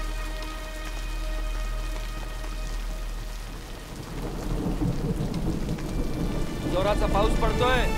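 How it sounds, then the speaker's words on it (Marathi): Steady rain pours outdoors with a continuous hiss and low rumble, growing denser and louder toward the end, and a person speaks faintly over it near the close. "पाऊस पडतोय, बरांड्यात बसू नकोस."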